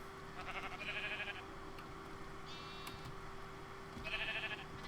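Sheep in the Minecraft modpack Sevtech Ages bleat three times in short bursts, quiet and evenly spaced over a low steady hum.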